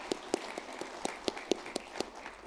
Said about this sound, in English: So I want to clap for all the organizers first.